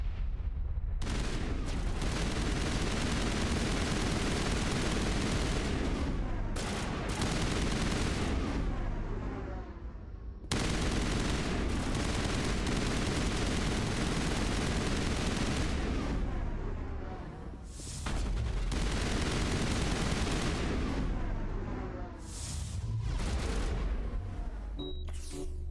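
Dense, sustained gunfire and booming weapon blasts from Mass Effect fill the scene loudly and almost continuously, with a few short breaks between bursts.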